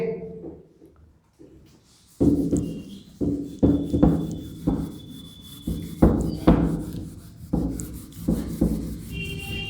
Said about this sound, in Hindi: अब हम इस तरह रब कर दे रहे हैं